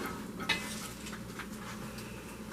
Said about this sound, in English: then you just give it a little stir around